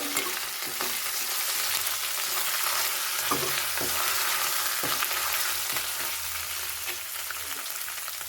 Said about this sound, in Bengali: রসুন আর আদাটা ভাজা ভাজা হয়েছে।